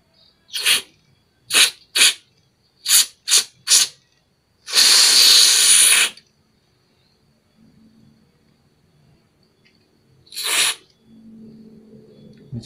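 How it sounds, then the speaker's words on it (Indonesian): An aerosol cleaner is sprayed into the fuel passages of a Corolla DX carburetor, several short hissing bursts then one long spray and a later burst, loud and close, with quiet gaps between. "Nah, ini salurannya kita semprot."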